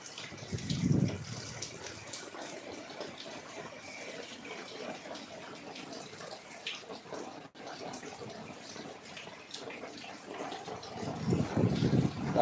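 Rain falls outdoors near a stream and bridge in windy weather, making a soft, continuous wash of water that stays quiet and steady throughout, with brief louder gusts near the start and end.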